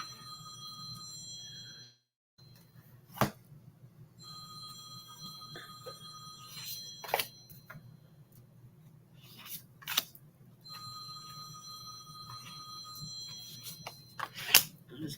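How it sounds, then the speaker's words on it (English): A cell phone rings in a quiet room, its bright electronic tone sounding in several bursts over a steady low hum, with brief sharp clicks between rings. "This is my husband's cell phone."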